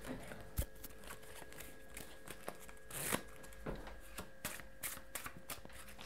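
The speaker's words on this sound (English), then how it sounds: "I have some cards, Yes. all different. I'll give them a shuffle." Rapid crisp riffling of playing cards being shuffled, a flurry of small snapping flicks close up, fairly quiet with no talking.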